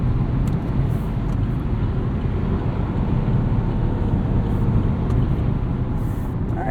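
Steady, even road and engine rumble inside the cabin of a 2021 Chevrolet Trailblazer LT AWD cruising at 80 mph, with little wind noise and a constant low drone throughout.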